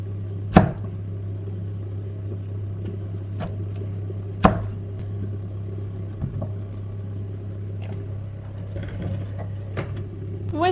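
Knife chopping food for a baby's meal, a few sharp distinct thuds spaced apart over a steady low kitchen hum, close and fairly loud.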